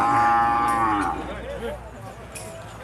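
Cattle at a livestock market, a single long, loud moo fading out, followed by quiet background murmur.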